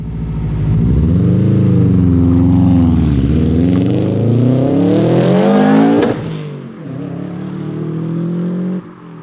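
A Subaru Impreza WRX revs hard and pulls away close by, its engine note climbing steadily before a quick gear change and continued acceleration, loud with no talking.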